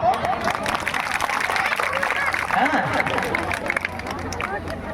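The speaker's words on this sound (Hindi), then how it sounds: "जब बात पसंद लगी तो ताली ठोको।" An audience claps throughout a live spoken event, the applause steady and dense with crowd murmur and a voice talking over it.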